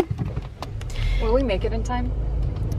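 Low, steady road rumble inside a moving car, with a voice speaking over the cabin drone.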